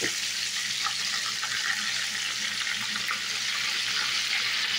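Quail pieces frying in masala in a pan, a steady, even sizzle and crackle of hot oil close by, with no talking.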